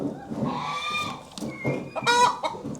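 Several chickens cluck and squawk nearby in a barn, with overlapping bursts of harsh, strained calls and a rooster-like crowing note, continuous and fairly loud throughout with no talking.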